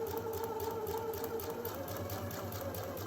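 A Husqvarna Viking Epic 2 sewing machine stitching fast with a single needle plate, giving a quiet, steady mechanical whir and rapid regular needle ticking, alone and close.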